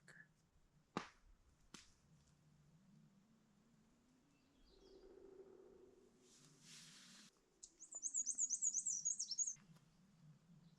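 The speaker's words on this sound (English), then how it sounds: "That's a loud woodpecker." A loud woodpecker in the spring Algonquin backcountry gives a quick run of sharp, repeated calls near the end, after a few isolated knocks and quiet forest background.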